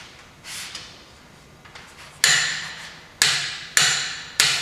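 A torque wrench tightens a CV axle bolt on a VW Passat to 140 foot-pounds, giving four sharp, loud metallic clicks with short ringing decays, spaced about a second apart after a few quieter handling sounds.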